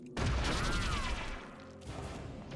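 Rifle gunfire from the video game Eternal Darkness: Sanity's Requiem, a dense close burst of sharp shots with a short ringing tail, fading over about two seconds.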